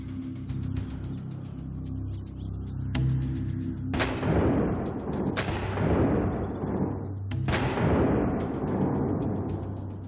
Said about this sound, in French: notre expert en explosifs a placé une charge sur une pastèque qui représente la Terre